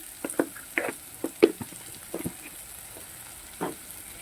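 Spices with salt and turmeric fry in a pan for a hilsa dish: a soft sizzle under a scatter of sharp stirring taps and scrapes.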